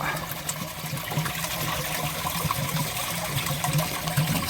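Water pours from pipework into a koi pond, a continuous splashing, trickling flow at close range, steady and moderately loud with no talking.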